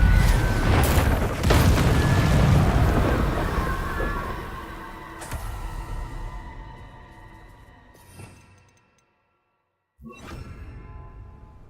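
Fiery spell blasts and booming bursts in Hogwarts Legacy, loud rumbling whooshes early that fade into quieter crackles, a near-silent gap, then another sharp burst.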